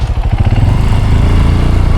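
A motorcycle engine runs steadily and close by for about two seconds, a loud, continuous mid-pitched drone with a regular firing pulse, heard alone on a village road.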